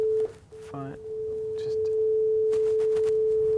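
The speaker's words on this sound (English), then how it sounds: "you can see a basic sine wave moving quite fast." A steady pure sine tone holds at one pitch, interrupted briefly near the start by a few short synthetic blips and chirps.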